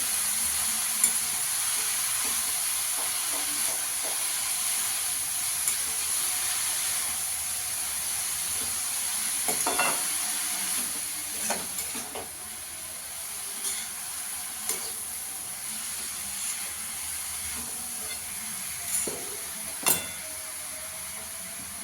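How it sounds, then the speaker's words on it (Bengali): Young spinach being stirred and mixed with spices in a frying pan, a steady soft sizzle and hiss with faint scraping clicks of the spoon scattered throughout, alone without talk. "পালং শাকটা ভালো করে এর সঙ্গে মিশিয়ে নেবো মশলার সঙ্গে।"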